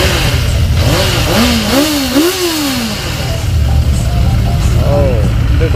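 A superbike with an aftermarket exhaust revs close by, rising and falling engine pitch over a steady rumble, with whistling swoops and several blips in sequence.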